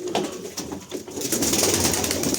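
Tumbler pigeons cooing close by, soft throaty coos mixed with fluttering and shuffling, fairly loud with a busy background of rustling.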